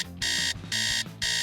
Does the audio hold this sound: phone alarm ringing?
yes